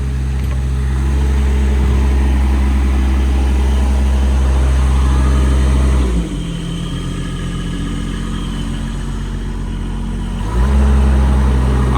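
Diesel engine of a 2019 Kenworth T370 mechanics truck idling loudly and close, stepping down in speed about halfway through and then climbing back up near the end.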